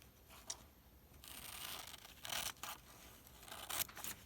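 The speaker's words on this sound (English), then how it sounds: "So you're just cutting both dashed orange lines right on that line" Scissors snip through paper along dashed lines in short bursts of crisp cutting and rustle, close and fairly quiet, with brief pauses between strokes.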